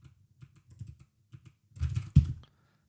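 Typing on a Digma DeFi computer keyboard: a run of soft, close key clicks in irregular bursts, building to a denser flurry of keystrokes with one louder thump near the end, with no voices.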